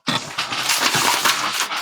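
A voice imitates a roaring wildfire with a steady, loud, breathy hiss and crackle, sustained for a couple of seconds.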